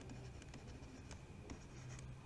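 A pen scratches on paper while a maths solution is worked out, a faint close scribble in short strokes with small taps over quiet room noise.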